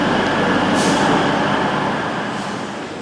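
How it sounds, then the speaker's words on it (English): A train pulls into platform 7 at Crewe station, a steady broadband rumble of wheels and motors filling the scene, with a brief hiss partway through and the noise slowly easing as it comes to rest. "This is the train I taken from Rugeley Trent Valley to Stafford, and he arrived on platform 7 at Crewe."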